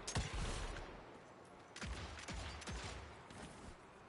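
Gunshots ring out in the action shooter Evil West, a handful of sharp, quiet reports spaced irregularly over a faint background.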